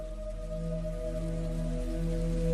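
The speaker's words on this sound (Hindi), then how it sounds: "इतनी जोर से बारिश होने लगी कि पैदल घर आना ही मुश्किल हो गया" Heavy rain pours down in a cartoon effect as a steady, even wash of noise with a low humming drone beneath, continuous and unchanging, with no voices.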